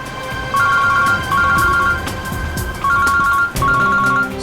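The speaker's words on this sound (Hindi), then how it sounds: "श्रेया की माँ का फोन।" A phone ringtone sounds in two repeated bursts of electronic tones, fairly loud and close, with a short gap between rings, as an incoming call arrives from a missing girl's mother during a crime investigation.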